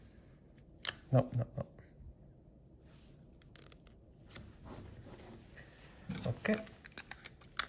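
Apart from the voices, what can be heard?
scissors cutting fabric sewing pattern pieces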